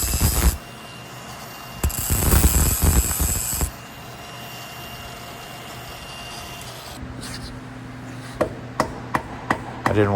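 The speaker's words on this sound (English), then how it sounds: "so now I'm just hammering that down" Metal being hammered down on a motorcycle kickstand, with a sharp burst of clanging early on, then a quieter stretch and a series of separate, evenly spaced metallic strikes near the end, close and alone.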